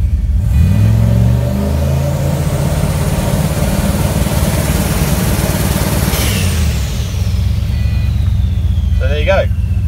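A car fitted with a transbrake and two-step rev limiter holds a loud steady revving drone near the limiter's ceiling, with a pitch that rises early and a whine that sweeps down near the end. A voice talks over it.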